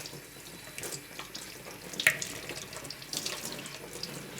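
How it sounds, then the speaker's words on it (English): A cold kitchen or bathroom tap runs steadily while a cross stitch piece is rinsed of soap, a continuous close splashing hiss with a brief louder splash near the middle. "So I'm going to set my tap to cold."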